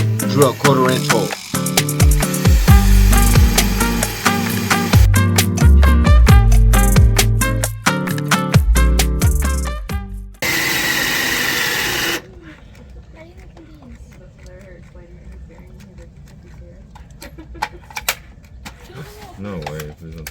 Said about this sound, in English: Step 2. Drill 1/4 inch hole.